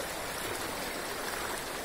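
Floodwater pouring through a breached new-construction dike on the Hollongi River, a steady, dense rushing wash that holds constant throughout with no voices.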